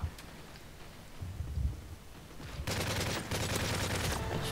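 Gunfire during a Call of Duty: Modern Warfare 3 survival match on the Lockdown map, with an MSR sniper rifle in play: a quiet low rumble with a few thumps gives way to loud, dense, sustained crackling fire.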